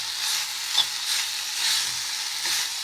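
Onions frying in a pan with coriander for a chole gravy, a steady, fairly loud hissing sizzle that swells gently as the mix is stirred, with no voices.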